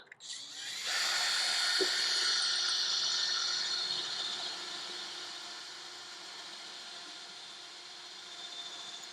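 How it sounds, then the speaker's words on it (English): A power drill with a 1/4 inch bit starts up abruptly and runs with a high, steady whine for several seconds while drilling a hole, gradually easing off, close and loud, with no voices. "We're gonna drill a little hole here with a 1/4 inch, or sorry, with a 1/4 inch drill bit."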